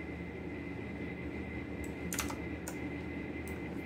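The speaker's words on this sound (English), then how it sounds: "Now let's start the flashing process of TWRP by typing fastboot boot" Keys clack on a computer keyboard as a fastboot command is entered to boot a TWRP recovery image on a Mi 11X phone, a few scattered crisp taps over a steady fan-like hum.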